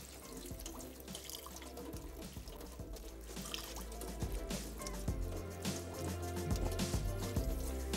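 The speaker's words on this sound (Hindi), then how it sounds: "मैक्रोनी को फ़ौरन गर्म पानी से हटा के और इसको ठंडा पानी ज़रूर लगा दीजिएगा" Cold tap water runs steadily over freshly boiled macaroni in a kitchen, a continuous close splashing and gurgling stream with no talk.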